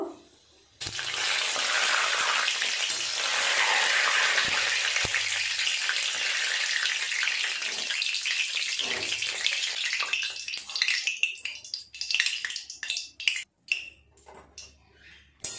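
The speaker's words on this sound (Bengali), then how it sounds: "এই লাস্ট এই কটা ভাজা হচ্ছে, হলেই পুরোপুরি হয়ে যাবে ভাজা।" Palm fruit fritters fry in oil with a loud, close, continuous sizzle that thins into patchy crackles and pops toward the end.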